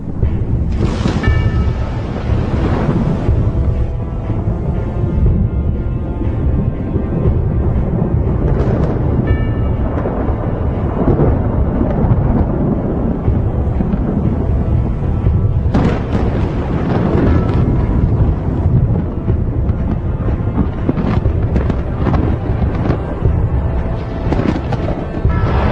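Thunder from lightning in a thunderstorm rolls and booms continuously, loud deep rumbles with several sharper cracks spread throughout.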